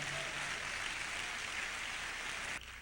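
Church congregation clapping for the King during a Spanish-language sermon, a steady, dense wash of applause filling the room before cutting off abruptly near the end.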